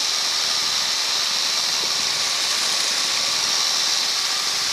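A steady, loud, hissing drone from a light aircraft engine cruising at about 65 knots fills the clip without a break, with no voices.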